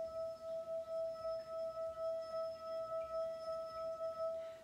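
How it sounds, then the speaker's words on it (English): A wet fingertip circling the rim of a water-filled wine glass sustains a clear, steady ringing tone, pulsing softly with each pass, quiet and alone. "So the more water that is in a wine glass, the lower the pitch."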